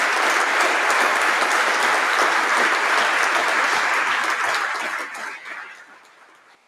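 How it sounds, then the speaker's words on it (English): Graduation ceremony audience at the University of Reading giving a long, dense round of applause, steady and loud before fading away over the last two seconds. "I'm going to offer you my own extra round of applause"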